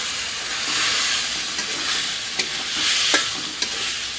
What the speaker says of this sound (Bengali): এবারে দিয়ে দেবো ভেজে রাখা আলু আর পটলগুলো।